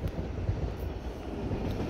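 CSX manifest freight train rolling past on a far track, a steady broadband rumble and rail roar with no voices.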